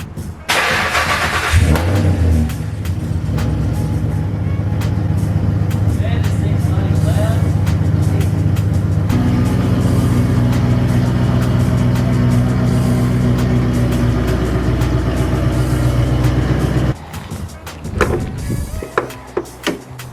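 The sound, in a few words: Nissan R33 Skyline car engine starting after jumpstart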